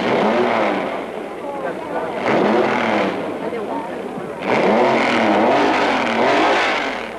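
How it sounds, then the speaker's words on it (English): Ferrari race cars at the Spanish Grand Prix roar past in loud waves of engine noise, revving and fading as they pass, under a voice talking throughout. "it is two Ferraris that streak into the lead"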